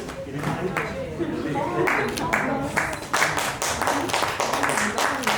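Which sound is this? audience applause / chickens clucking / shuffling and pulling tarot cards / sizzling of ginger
audience applause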